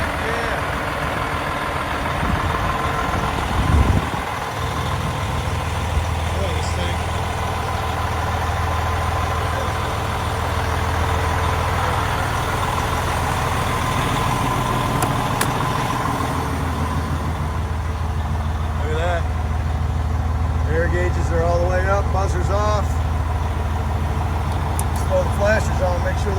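A truck engine turns over on a cold start and settles into a steady low idle rumble, close and constant, with a person talking over it.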